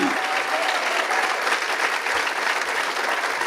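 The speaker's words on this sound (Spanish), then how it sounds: "Fuertes aplausos al Señor." A church congregation gives strong, sustained applause, a dense, even wash of many hands clapping at once that holds steady and loud from start to finish.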